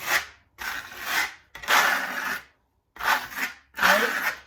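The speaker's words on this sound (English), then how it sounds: "So if you wanted to use a hawk instead, you would then just scrape some off this way, okay?" Lime plaster scraped off a hawk with a trowel for a Venetian plaster fireplace, five rough rasping strokes in a steady rhythm with short pauses, close and fairly loud.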